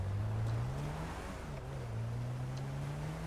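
A slow car in GTA 5 Online drives with a droning engine hum whose pitch rises, dips and climbs again under a steady road roar, close and continuous.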